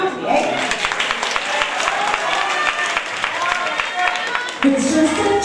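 Applause from an audience at a dance performance, with dense, sharp hand claps in a steady patter throughout and a few voices and crowd noise mixed in, growing a little louder near the end.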